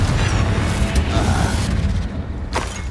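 A Confringo blasting spell explodes in a fantasy video game with a loud, rolling, rumbling boom. It churns for a couple of seconds and ends in a sharp burst, with a voice faintly underneath.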